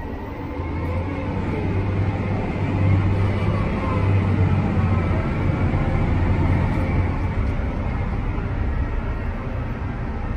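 A John Deere 7R330 tractor engine pulls steadily under throttle, a loud, sustained low rumble that swells slightly and holds even for about ten seconds with no talking over it.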